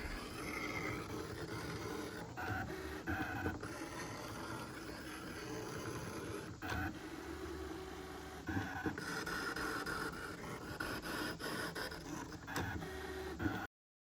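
A Brother Scan N Cut machine cuts paper ephemera with a steady, fairly quiet mechanical whir and buzz, punctuated by brief motor pauses and carriage shifts as the blade travels, running alone for about fourteen seconds.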